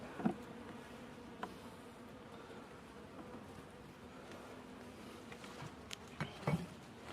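Honey bees fill an open hive with a low, steady buzz that stays faint but constant throughout, with a few soft knocks and rustles from the hive as it is worked.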